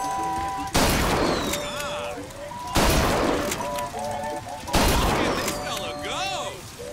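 Three loud shotgun blasts ring out about two seconds apart in a BioShock Infinite shooting gallery, each a sharp broadband burst over a busy background of music and chatter.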